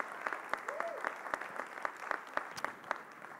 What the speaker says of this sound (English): Let's give everyone else a big round of applause for their work in supporting our students.